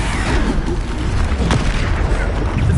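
A Bombarder spell detonates in a PS5 wizarding game, a loud, continuous rumbling boom that fills the whole moment with dense, roaring blast noise.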